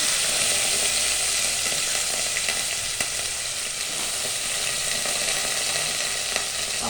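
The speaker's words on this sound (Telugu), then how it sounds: "ఫస్ట్ పప్పును కొంచెం వేయించుకోవాలి." Moong dal sizzles steadily as it dry-fries in a pan, with a continuous close crackle and occasional stirring scrapes and taps, no voices.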